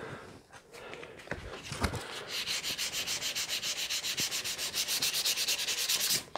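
Quick hand sanding of binding on a guitar headstock, a rapid steady rhythm of close, even rasping strokes after a few scattered bumps, no talking.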